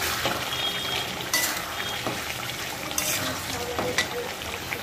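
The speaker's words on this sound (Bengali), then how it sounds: "এই যে এখন এই মিষ্টি লাউটা ভেজে নিব।" Sweet gourd slices frying in a pan, a steady broadband sizzle with occasional louder crackles and stirring clatters, close and continuous.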